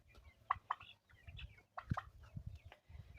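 Chickens and other poultry cluck and call in a farmyard, with several short, close squawks and murmuring clucks scattered irregularly over a quiet background.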